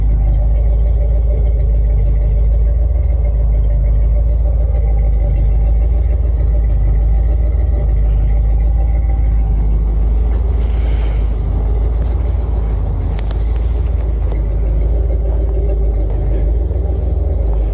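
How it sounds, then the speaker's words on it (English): A 1989 Chevy dually truck idles with a deep, loud exhaust rumble, steady and close, with a slight rise in engine roar partway through. "let me let you hear the exhaust"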